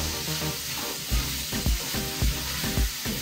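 Capsicum is stir-fried in a hot pan for chicken fried rice, a steady sizzle broken by rhythmic thumps and scrapes of tossing, with no voices.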